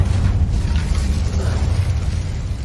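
Incendio fire spell cast in Hogwarts Legacy, a steady low roaring blast of flame that holds loud and dense for a few seconds without a break.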